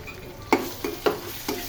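Ginger and garlic hitting a hot pan, giving a few short sizzling bursts with light stirring scrapes, close and moderately loud, with no talking.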